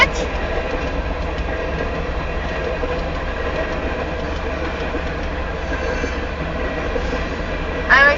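A southbound Union Pacific grain train rolls past on the line east of Ankeny, Iowa, with a steady, loud rumble and wheel clatter throughout and a short squeal near the end.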